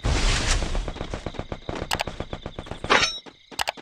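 Rapid gunfire from a Free Fire mobile game battle, a dense run of sharp shots with metallic clangs and a few louder bursts near the end, with no talk over it.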